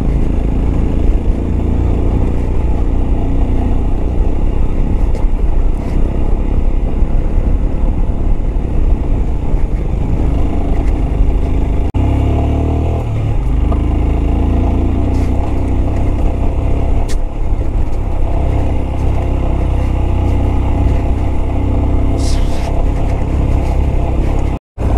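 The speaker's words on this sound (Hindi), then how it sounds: "क्या जंप हो रही है गाड़ी, अभी सस्पेंशन ना पूरा काम कर रहा है, बढ़िया चू चू भी कर रहा है" Off-road car bouncing over rough mountain track near Manang, engine roaring loudly and continuously with rattles and suspension squeaks, a brief thump midway and a sharp knock at the end.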